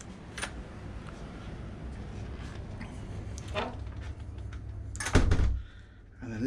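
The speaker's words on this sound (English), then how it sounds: "Okay, so we're back through this door." A door aboard a 38 metre Delta Marine superyacht is opened and shut, and a solid thunk lands near the end over a steady background hum of the vessel.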